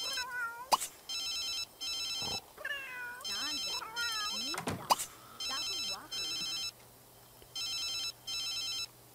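A mobile phone ringtone rings in repeated bursts, the chime pattern cycling about eight times and cutting through a cartoonish game-character babble and clicks in a Sims 3 life-simulation game.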